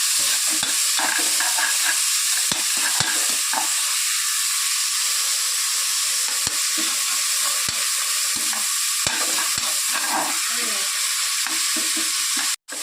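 Onion, tomato and two green chillies sautéing in a hot pan for vegetable biryani give off a constant loud hissing sizzle, with intermittent clicks and scrapes of stirring, ending in an abrupt cut.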